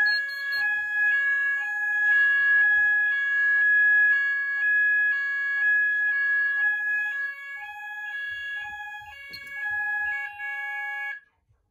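A Kentec Syncro fire alarm system sounder in alarm gives a loud, steady, rapidly alternating two-tone electronic wail that runs continuously for about eleven seconds, close and alone, then stops abruptly.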